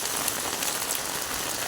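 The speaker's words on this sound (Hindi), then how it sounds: "बरसात हो रही है बहुत ज़्यादा" Heavy rain pouring down, a dense continuous hiss of drops striking surfaces, loud and steady throughout with no voices.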